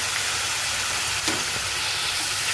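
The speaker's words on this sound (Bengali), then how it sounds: "এখন একটু ভালো করে কষিয়ে নিচ্ছি পেঁয়াজ রসুন" Onion and garlic sautéing with salt and grated tomato in hot oil, a continuous dense sizzle close up, fairly even throughout with a faint stir of the spatula near the middle.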